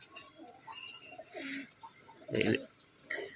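White pigeons coo softly at close range, with several short, low, throaty calls and faint chirps, plus one brief louder rustle or flutter partway through.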